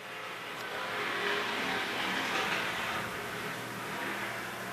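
Race cars in a heat race at Bakersfield Speedway roar around the oval, engines swelling and fading as the pack passes, a continuous loud drone without talk.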